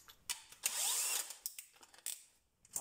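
A DeWalt DCD996N cordless drill whirs in short bursts and one longer run as it drives a screw, with ratcheting clicks between pulls of the trigger.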